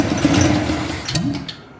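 A Jeep that had a flat battery starts and runs, its engine giving a rough, close, steady low rumble with sputtering bursts, ending abruptly.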